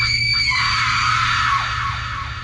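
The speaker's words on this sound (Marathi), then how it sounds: "अंगाऱ्याचे कण वैदेहीच्या शरीरावर पडताच ती प्रचंड किंचाळली." A woman's loud, piercing scream as a horror story sound effect, sustained and fading slightly toward the end, alone without talk.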